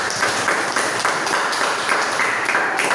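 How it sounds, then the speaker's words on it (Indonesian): A classroom of pupils applauds at the close of a lesson led by their teacher, a steady, fairly loud wash of clapping that continues evenly throughout. "Untuk terakhir kalinya, tepuk tangan untuk kita semua."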